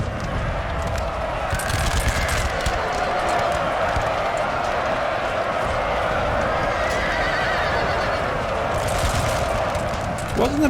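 Heavy cavalry horses charge in Napoleon: Total War, a loud dense roar of galloping hooves and neighing horses blended with crackling musket fire, continuous and close from start to finish.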